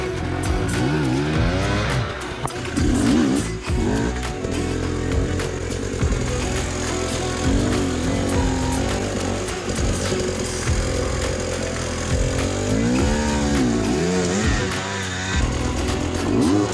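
Enduro motorcycle engine revving and straining at close range, a continuous loud, buzzing whine that rises and falls steadily with no talk over it.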